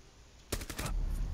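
A sniper rifle shot in the Rainbow Six Siege skyscraper map, striking suddenly after a quiet stretch as one loud sharp crack, followed by a few quick, decaying bursts that leave raised background noise behind.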